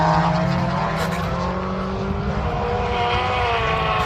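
A carbon Kevlar BMW M2 drift car runs on the track at Castle Combe, its engine a loud, steady roar with sustained high revs and tyre noise throughout, close and continuous.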